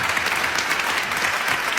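A small gathering breaks into thick, steady clapping that stays loud and even for its whole brief span, with no voices over it.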